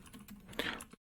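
A terminal command is typed on a computer keyboard as a short burst of quick, soft key clicks up close, ending in a slightly louder final keystroke.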